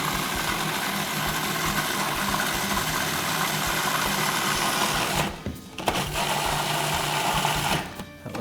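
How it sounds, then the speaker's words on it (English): Harissa being blended and emulsified with olive oil and pepper, the blender running as a loud steady whir that briefly cuts out twice near the end before starting up again. "So I'm gonna get this blending and I'm gonna emulsify it with some olive oil in there"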